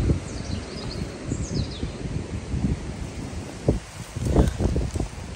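Strong wind blowing outdoors in the UK, a continuous gusty rumble buffeting the microphone with rustling, with faint bird chirps in the background.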